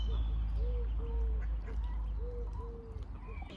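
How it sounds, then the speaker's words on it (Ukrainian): Young ducklings on a lakeside walk give a few soft, short quacking calls in a steady series over low, rumbling outdoor background noise, with no talking. "Дивіться, які малючки, клас, маленькі качечки."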